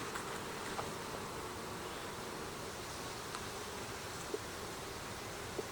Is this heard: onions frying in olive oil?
no